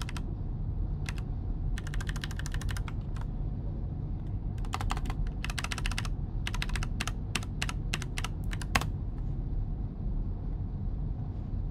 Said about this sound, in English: I'm just typing in some credentials.